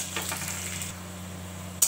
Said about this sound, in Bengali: ফোড়নটা দিয়ে দিচ্ছি, রাঁধুনি দিয়েছি, আর হচ্ছে মেথি দিয়েছি, আর সর্ষে দিয়েছি, আর কালো জিরা দিয়েছি